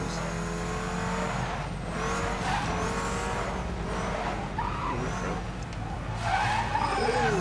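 Car tires spin and skid with loud, sustained squealing over a roaring engine in the racing game Need for Speed Most Wanted, continuous and close throughout.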